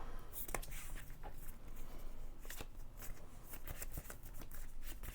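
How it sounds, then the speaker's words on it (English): Star Wars Unlimited trading cards shuffled in hand, a steady run of soft riffling flicks and papery slaps repeating for several seconds, close and fairly quiet with no talk. "I'm shuffling the cards in my hand"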